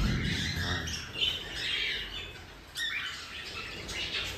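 Pet cockatiels in an aviary squawk and chirp while eating vegetables, with harsh calls rising and falling steadily throughout, close by and moderately loud against low background rumble.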